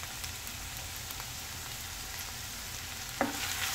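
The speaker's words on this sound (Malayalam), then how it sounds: "ഇതെല്ലാം കൂടി ഒന്ന് വഴറ്റുക, നന്നായിട്ട് വഴറ്റുക" Ginger, garlic and green chili sauté in coconut oil for a lentil curry with a steady, close sizzle, and a single utensil knock sounds near the end.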